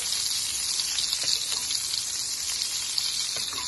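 Salmon basting in olive oil and butter in a pan, a steady bright sizzle and crackle throughout, close and fairly soft, with small spits and pops.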